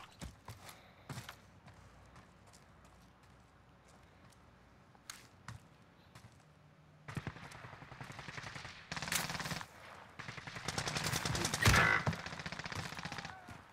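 Gunfire in the video game Call of Duty: Modern Warfare starts as scattered single shots over quiet ambience, then builds into denser, louder volleys and automatic bursts toward the end.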